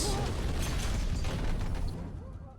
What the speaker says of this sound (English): I was not expecting an explosion.